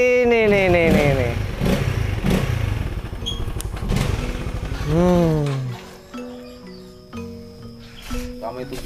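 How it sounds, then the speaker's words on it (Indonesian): A motorcycle engine revs in sharp rising and falling bursts, loud and close, then drops to a lower uneven idle while people talk nearby. "Ah, sial betul motor ini."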